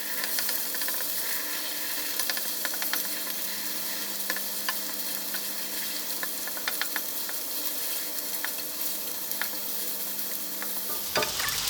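Lightly beaten eggs fry in a hot pan for crab fried rice, giving a steady close sizzle and hiss with occasional crackles and scrapes that cuts off abruptly near the end, with no talking.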